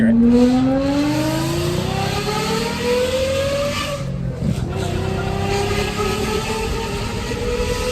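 A Toyota Cresta street racer's engine revs hard and loud up close, its pitch climbing steadily, dropping briefly, then rising again as the car accelerates on an American public road.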